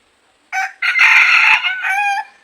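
A labuyo, a wild jungle fowl rooster, gives one loud, close crow, a short opening note and then a long, wavering call against quiet surroundings.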